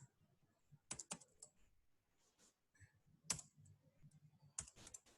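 Code is typed on a computer keyboard in a few sparse, crisp key clicks spread out in time, close and quiet.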